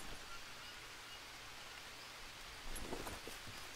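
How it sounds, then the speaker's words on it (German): Steady rain hisses in a jungle survival game, a dense broadband wash of falling water with a few brief louder patters and drips near the end. "wir mussten nur warten, bis es regnet"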